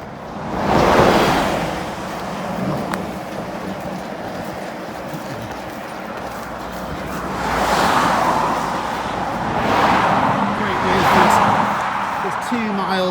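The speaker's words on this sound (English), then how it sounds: "let's wait for this car." A car passes on a quiet country road near Wolford Wood, a broad whoosh swelling and fading close by, followed by further rushing swells of passing vehicles against low background noise.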